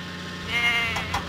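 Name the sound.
goats bleating in Thomas and Friends video game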